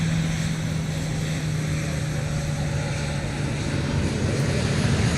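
A Southwest airliner taxiing at MSP airport, a steady heavy jet engine rumble and whine held at constant loudness throughout, with no talk.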